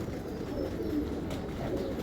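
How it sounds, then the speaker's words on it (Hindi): Pigeons kept for breeding give soft, low cooing calls that carry on continuously for about two seconds, close by and with no talking. "बहुत शानदार कबूतर है जी उस्ताद मालिक मोहकम साहब का।"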